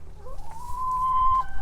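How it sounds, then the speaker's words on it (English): Backyard chickens in a perennial garden cluck and call close by, one bird giving a drawn-out rising vocalization over softer background clucks. "There's the chickens doing their thing."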